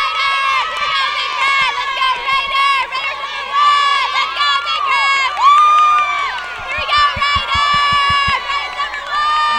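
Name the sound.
high school football fans cheering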